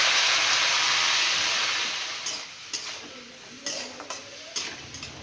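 Ash gourd with grated ginger in a pan: a steady loud hiss of sizzling that eases off, followed by several sharp scraping stirs and knocks against the pan, close by, with no talking.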